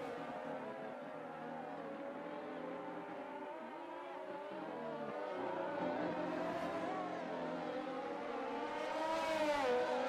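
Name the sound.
Alpine Formula 1 race car on a push lap, racing video game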